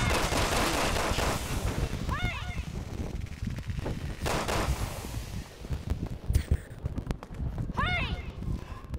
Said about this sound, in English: One moment, I'm shooting people!